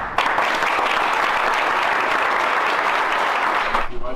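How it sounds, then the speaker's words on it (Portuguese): Loud, dense round of applause from a studio audience on a football talk show. It is steady and sustained for about four seconds and then cuts off abruptly. "Uma salva de palmas."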